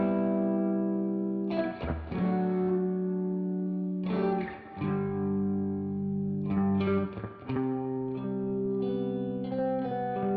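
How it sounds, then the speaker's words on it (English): Driven electric guitar using the Amplitude patch Lizzie's Praying, playing sustained distorted chords with a chorus-like shimmer, changing every couple of seconds with pick scrapes between, up front and alone. "So we want to add a guitar that has some more drive,"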